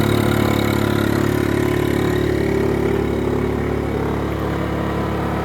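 A Honda generator runs inside a closed enclosure at a steady idle, giving a continuous low engine drone with muffled exhaust noise, close and even throughout, with no talking.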